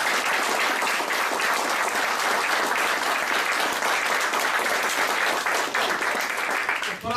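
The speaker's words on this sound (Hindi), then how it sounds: "एक बार जोरदार तालियां होना चाहिए" Loud, sustained applause from an audience at a training session fills the room steadily for about seven seconds, with a slight dip near the end.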